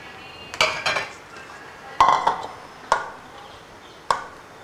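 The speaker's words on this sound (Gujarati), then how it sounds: "આ બટાકામાં પૌવા મિક્સ કરવાના છે." Poha being mixed into mashed potatoes in a bowl, heard as a few sharp utensil clinks and scrapes against the bowl, spaced irregularly, close and fairly loud, with no talking.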